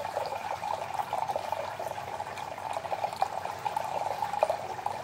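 A decorative silver water fountain with flower-shaped beaded bowls, water trickling from its stem through the flowers in a steady, gentle splashing patter, close and fairly quiet.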